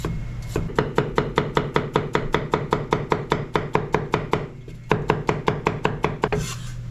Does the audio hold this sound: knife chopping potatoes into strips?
yes